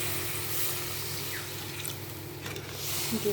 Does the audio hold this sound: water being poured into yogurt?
yes